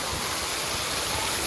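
Steady, close rush of flowing water along Blizzard Beach's Lazy River water park channel, a dense, unbroken wash with no pauses.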